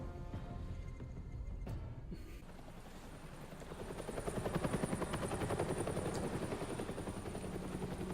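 Helicopter in the Batman Telltale video game, a thudding rotor chop that swells louder midway and keeps pulsing steadily, heard alone after a brief sharp clatter at the start.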